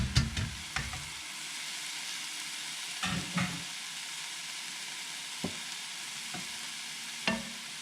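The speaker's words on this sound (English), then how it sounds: "Add the beef in." Ground beef cooking with sweated onions in a pan for chili gives a steady soft sizzle, with occasional scraping clatters from stirring breaking through the frying hiss.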